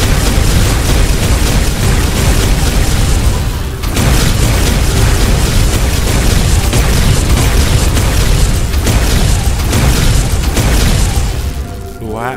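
Minecraft nuclear gun blasts roar in a dense, continuous wall of loud booming explosions, broken by a short dip, then rumbling on before easing at the end.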